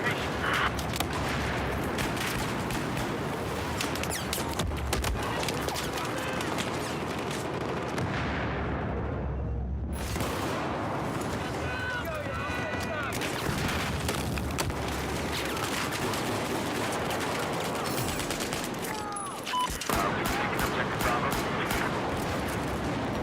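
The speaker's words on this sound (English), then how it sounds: "Oh, I'm shooting at the light fixture." Rapid, dense gunfire from a military shooter video game runs almost continuously, loud and close, with repeated bursts and occasional booms layered over steady battle noise.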